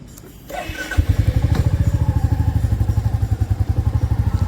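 A Royal Enfield Classic motorcycle starts up close by and settles into its loud, steady, rhythmic single-cylinder thump as it sets off.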